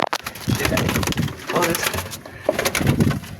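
Pigeons in their coop cooing and scuffling in a fight, several low throaty coos in bursts close by with flapping and rustling between them.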